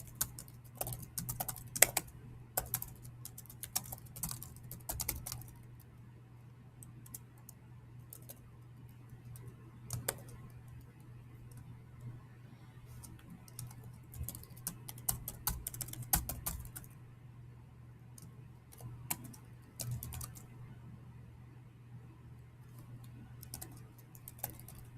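Computer keyboard typing while code is entered, a steady run of light clicking keystrokes over a low constant hum, with occasional louder bursts of keys.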